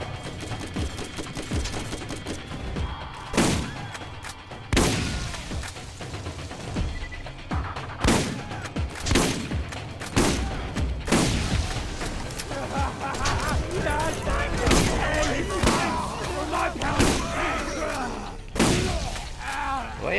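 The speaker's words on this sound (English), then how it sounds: "Beginning to appreciate my scope on this shotgun." Shotgun fire in the video game Borderlands, repeated loud booming blasts at irregular intervals over game sound effects, with someone talking between and over the shots.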